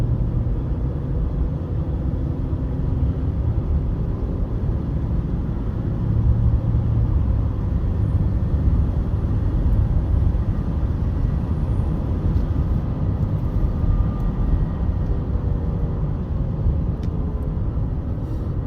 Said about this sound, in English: under light to moderate throttle, there's like a chugging, sloppy engagement of fourth gear for sure.